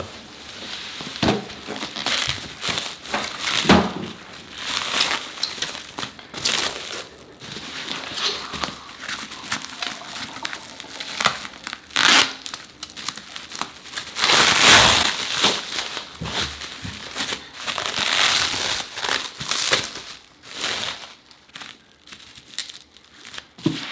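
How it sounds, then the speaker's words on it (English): Bubble wrap packaging from a drill storage unit crinkles and rustles as it is pulled open, with dense bursts of crackling and rustling and louder crunchy peaks; close and busy throughout, with no talking. "I love that there's bubble wrap because my kids are going to play with it"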